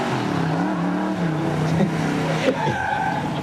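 A 428 Super Cobra Jet car driven hard around cones, tires squealing and skidding over a steady engine roar, loud and close, with a sharp bump near the end.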